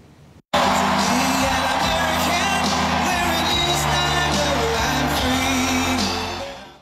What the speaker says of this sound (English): The crowd greeted Donald Trump with cheers and waves